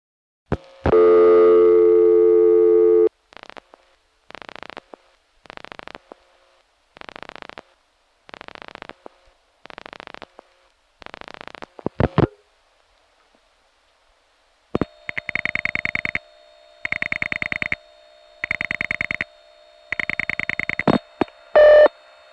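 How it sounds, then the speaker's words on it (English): Telephone ringing signal on a Greenwood Lake line, captured by a tape recorder too sensitive for the ring's loudness: a loud burst, then evenly spaced rings with long silences between them, and later a brighter, clipped ring pattern that repeats steadily. "a ringing number in Greenwood Lake, as recorded by my tape recorder"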